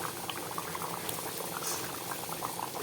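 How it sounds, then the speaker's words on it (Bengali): Taro curry bubbling steadily in a pot on the stove, a dense continuous simmer of close, small popping bubbles. "মানকচুর তরকারিটা কি সুন্দর টকবক করে ফুটছে।"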